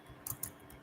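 Soft, quick keystrokes on a computer keyboard, a few close taps in a short burst, quiet and alone.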